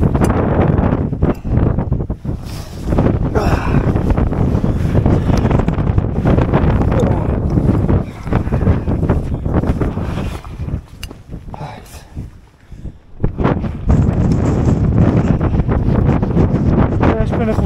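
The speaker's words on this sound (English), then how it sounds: "Windy." Strong gusts buffet the microphone in loud rumbling bursts on the Crib Goch knife-edge ridge, briefly easing around the middle before roaring back, with a voice heard in the wind.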